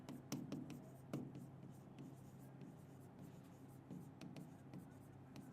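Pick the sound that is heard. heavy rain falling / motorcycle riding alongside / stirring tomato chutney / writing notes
writing notes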